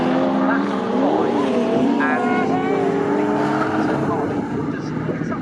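Pre-1983 Group 1 touring race cars at full throttle during a race at Snetterton, a loud continuous engine roar with shifting pitch as cars pass, a commentator talking over it.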